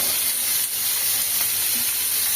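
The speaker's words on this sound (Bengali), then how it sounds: "এখানে বরবটিটা ভাজতে দিয়ে দেবো" Yardlong beans frying in a pan give a steady, close sizzle, an even bright hiss that runs throughout with no voices.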